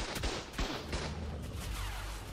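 Gunfire rings out in the survival game ARK during a PvP raid: several sharp, booming shots spaced irregularly over a steady background roar, no voices.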